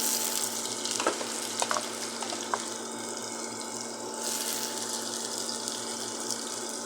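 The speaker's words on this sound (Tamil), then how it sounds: "பூண்டை போட்டாச்சு இப்போ கொஞ்சம் கிண்டி விட்டுக்கலாம்" Garlic frying in a pan for a bitter gourd stir-fry, a soft continuous sizzle with a few scraping stirring strokes and light clinks, fairly quiet and without speech.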